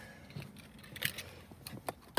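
Car keys jangle near a Ford Mustang GT's driver seat, a few small metallic clinks and rattles in short bursts, close and fairly quiet.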